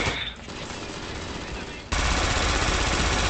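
Rapid automatic gunfire rattles continuously in a video game, loud and dense, growing heavier and louder partway through the burst.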